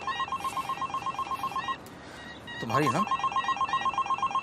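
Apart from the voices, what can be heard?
telephone ringing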